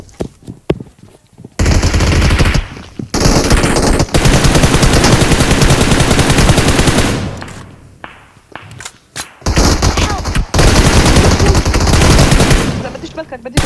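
Loud sustained automatic gunfire from a PUBG Mobile match rattles in long continuous bursts with brief gaps, close and dominant throughout.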